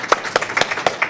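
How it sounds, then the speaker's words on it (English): Scattered, sparse clapping from a few people at a health fair, individual claps distinct and uneven. "Let's have a round of applause for our organizers."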